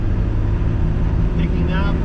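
A Toyota Land Cruiser's 1HZ turbo diesel engine pulls hard in fourth gear at low revs with the throttle flat, a steady loud drone under someone talking.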